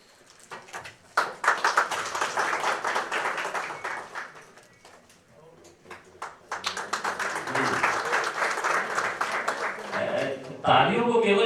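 Audience at an award ceremony in Jhunjhunu applauds in sustained bursts of many hands clapping, fading briefly in the middle before swelling again, with a voice speaking over the end.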